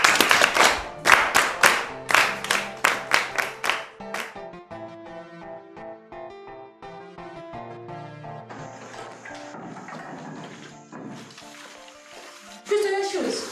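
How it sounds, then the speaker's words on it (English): A small group claps for a student in a short burst of rhythmic, close applause lasting a few seconds, which then gives way to soft music. "All of you, please, let's give her a round of applause."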